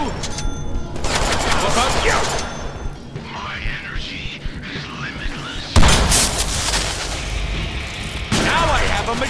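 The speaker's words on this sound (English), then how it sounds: "a machine gun!" Machine gun fire in the Deadpool video game, dense rapid bursts mixed with booms and thuds, loud and close, coming in several stretches with a voice talking over the action.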